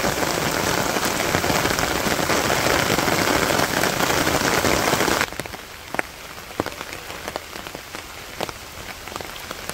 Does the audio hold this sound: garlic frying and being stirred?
no